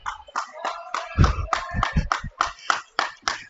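A hockey player clapping at a 16U girls' ice hockey game, about a dozen sharp, close claps in a quick uneven rhythm, heard alone.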